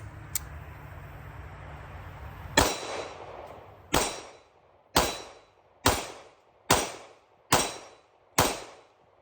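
Six sharp, loud shots from a Walther PPK pistol fired at a steady pace, each with a short echoing decay, after a single earlier louder bang and some handling noise.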